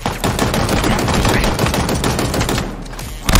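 Battle rifle fire in Halo Infinite, dense rapid bursts of shots crackling continuously and loudly, with a brief lull before a final sharp shot.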